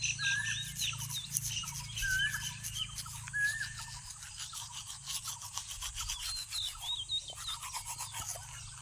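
Toothbrush bristles scrubbing teeth in a steady rapid rhythm, close and continuous for several seconds, with birds and roosters calling in the background of an early-morning outdoor setting.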